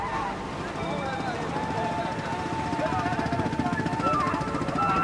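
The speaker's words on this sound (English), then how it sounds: "The beach throbs with engines coming to life." Outboard engines on fishing boats throb and sputter to life on a beach at Pentakota, a fishing village near Puri in Orissa, a steady pulsing drone that builds louder, with wind and surf in the background.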